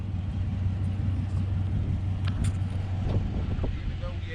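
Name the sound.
Dodge Durango 5.7L driving at speed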